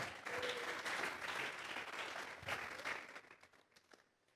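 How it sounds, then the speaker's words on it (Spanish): A church congregation claps together as an offering of applause to Christ, sustained and fairly faint in a reverberant hall, then thinning out and fading toward the end. "Vamos a regalarle ofrenda de palmas al Cristo de la gloria"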